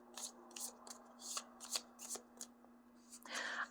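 Tarot cards riffled and drawn from a deck, a series of crisp, close flicks and slaps in an uneven rhythm, ending in a longer shuffling burst.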